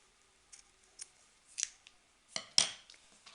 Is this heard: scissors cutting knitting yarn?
yes